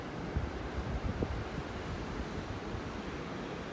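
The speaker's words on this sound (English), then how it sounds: "And very, very windy." Strong wind buffets the microphone on a beach in North Naples, Florida, with a steady wash of ocean surf underneath, constant and close for a few seconds with no talking.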